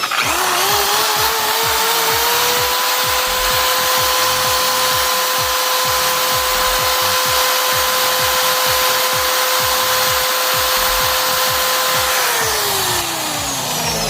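A 550-watt power drill whines steadily at a constant pitch for about twelve seconds, then spins down, loud and close, with no talking.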